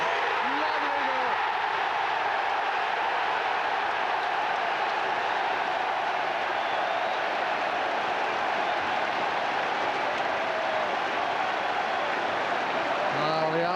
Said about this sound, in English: the Arsenal fans greeting that with the applause it deserves